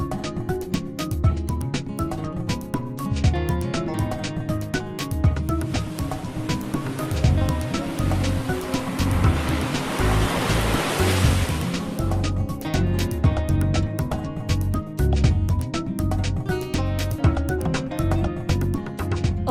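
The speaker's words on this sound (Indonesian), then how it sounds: "Deras dan tingginya ombak di pantai Sindangkerta, Kecamatan Cikalong, Tasikmalaya, Jawa Barat sudah menjadi sahabatnya." Strong, high waves roll and crash steadily along Sindangkerta beach in Cikalong, Tasikmalaya, West Java, a dense continuous roar of surf with a swelling wash midway, loud and close, with no voices.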